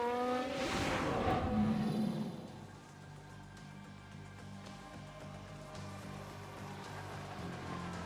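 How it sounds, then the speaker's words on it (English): In the F1 Manager 22 racing game, a race car's tires screech briefly in a lockup over a steady engine drone, then the engine hum carries on alone at moderate volume. "Sounds like someone's locked up."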